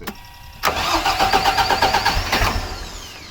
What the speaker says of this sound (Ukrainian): Зараз заведемо і показую вам, як він працює.